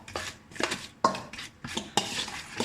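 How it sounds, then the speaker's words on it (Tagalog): Chicken and pork in a rosemary marinade are stirred in a bowl, with a utensil scraping and clinking against the sides in a steady rhythm of about five strokes, close and fairly quiet. "Haluin ko lang mabuti."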